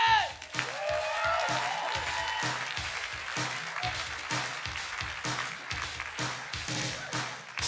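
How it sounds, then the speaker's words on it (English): A comedy show audience at Revolution Hall in Portland, Oregon claps steadily with a few faint whoops, the applause sustained and fairly close throughout. "Big round of applause right now"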